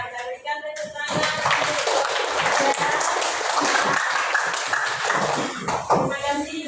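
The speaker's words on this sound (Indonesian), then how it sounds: "kita berikan tepuk tangan" Classroom audience applause for a group that has just presented its discussion results, dense hand clapping that starts after a brief voice and continues steadily, fairly near, for several seconds.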